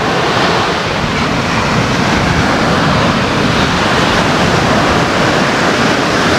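Sea waves break steadily on an Andaman shore, a loud, continuous wash of surf that stays close and unbroken throughout, with no voices.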